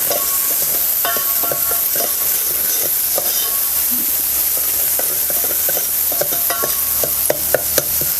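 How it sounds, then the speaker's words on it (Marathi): Chopped tomatoes being stirred and sautéed in oil for Rajasthani dal baati, a steady close sizzle with scattered clicks of a spoon scraping the pan throughout, no talking. "टमॅटो आपल्याला पूर्ण मऊ दूरपर्यंत आपल्याला टमॅटो परतून घ्यायचं"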